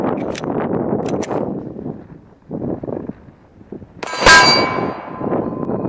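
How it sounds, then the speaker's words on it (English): A .45 ACP round from a Glock 21 strikes a CrossFit steel plate with a single loud, sharp clang partway through, ringing briefly over wind and rustling outdoor background. "This is 45 ACP out of my Glock 21."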